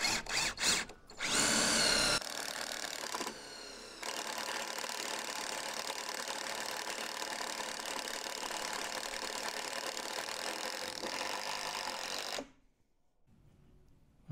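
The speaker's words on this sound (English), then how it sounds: "I'm gonna use my impact driver, cheapo Ryobi." A cheap Ryobi impact driver drives a screw through wood into steel in one long, loud, continuous hammering burst lasting about ten seconds, then cuts off abruptly.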